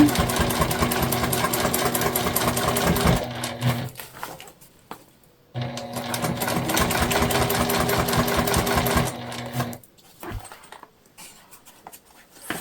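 A sewing machine stitches a crossbody bag at a slightly shortened stitch length, whirring steadily and loudly for about three seconds, pausing, then running again for another long stretch before stopping, with quieter handling sounds in the gaps.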